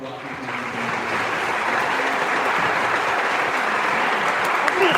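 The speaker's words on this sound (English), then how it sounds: "Can we have another round of applause for Dr. Watkins?" Sustained audience applause at a live concert event, dense and even clapping from a sizeable crowd holding at a steady loud level for several seconds.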